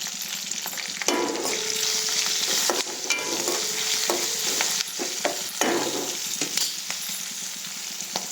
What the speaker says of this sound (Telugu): మంచిగా వేయించుకోవాలి పసుపు